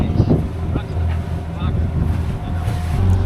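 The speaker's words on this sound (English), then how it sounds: "But I'm definitely going to keep motor sailing." A sailboat motor sailing with its genoa up, a steady low engine drone mixed with wind buffeting the microphone, loud and close, with faint talking underneath.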